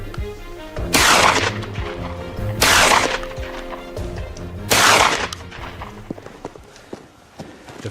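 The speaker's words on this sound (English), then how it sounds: "The first volley of gunfire shattered the stillness." Hunters fire on wild boar: three loud, sharp gunshot blasts spaced about two seconds apart ring out over a quieter outdoor background, each with a short decaying tail.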